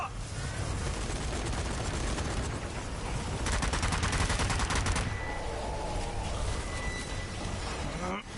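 Sustained automatic gunfire from machine guns in the zombie shooter Zombie Army 4: Dead War, dense rapid bursts running almost the whole time with brief louder volleys midway, mixed with game noise and a voice talking over it.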